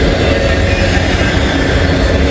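A Norfolk Southern freight train rolls past close by with its locomotive, a loud and steady roar of wheels on rails that stays dense throughout.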